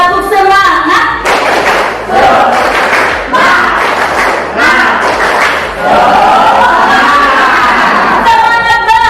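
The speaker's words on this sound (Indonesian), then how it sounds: "Oke, coba kita tepuk semangat dulu. Tepuk semangat." Schoolchildren in a classroom chant and clap together in a spirit clap routine, loud rhythmic bursts of young voices and hand claps, with a few pauses between rounds.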